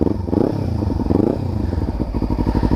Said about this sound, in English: Okay, so much deeper sound without the noise killer.